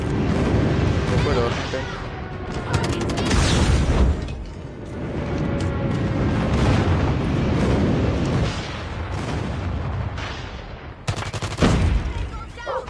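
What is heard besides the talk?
friendly airstrike explosions in the video game Call of Duty Mobile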